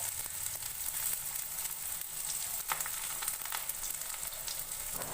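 Onions frying in hot oil in a wok, a steady soft sizzle and crackle with occasional stirring scrapes, close and fairly quiet throughout.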